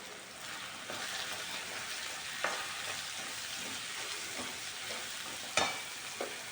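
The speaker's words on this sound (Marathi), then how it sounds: "आता यामध्ये टाकणार आहोत आपण कांद्याची पात" Chopped spring onions go into a pan of sizzling Khandeshi brinjal bharit: a steady frying hiss with occasional clacks of a stirring spoon against the pan.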